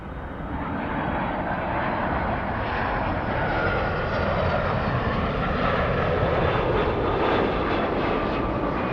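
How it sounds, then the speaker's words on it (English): A Delta Airlines Airbus A350 lines up at LAX, its jet engines producing a steady, loud, broadband roar that holds evenly throughout with no voices. "We have the A350 lining up."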